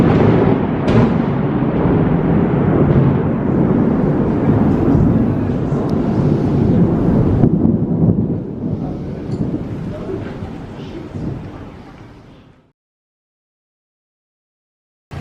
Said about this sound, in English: the day ended with a thunderstorm